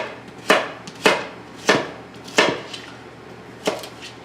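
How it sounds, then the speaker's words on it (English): Knife chopping carrot pieces on a cutting board, five sharp, evenly spaced chops about every half second to second, close and distinct against a quiet room. "And then that's when you just chop them all."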